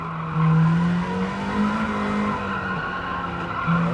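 A racing car engine in the video game Gran Turismo 7 drones steadily with shifting pitch while tires squeal in long, wavering screeches, loud and close, during a Daytona challenge.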